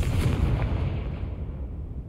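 Confringo blasting spell detonating in Hogwarts Legacy, a single heavy explosion with a deep rumbling boom that decays over about two seconds, loud and close, with no talk.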